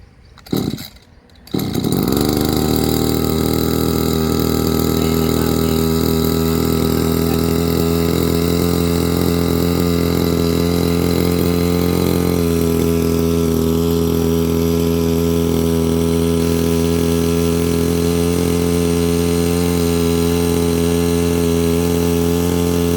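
A small two-stroke engine on an agricultural sprayer, choke off, sputters through a quick start attempt, then catches and runs at a loud, steady, buzzing drone close by for the rest of the time.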